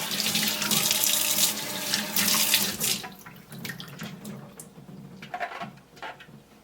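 Tap water runs and splashes into a sink while the removable spout of a Kuvings REVO830 whole juicer is rinsed, a steady close rush for about three seconds that then drops to softer, intermittent trickles and splashes.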